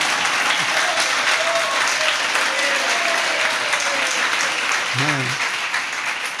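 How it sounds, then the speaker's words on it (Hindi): Loud, steady applause from an audience at a Hindi religious discourse, continuing unbroken throughout, with one brief spoken word near the end. "हमारे तो ऑनलाइन भी तालियां बजती रहती।"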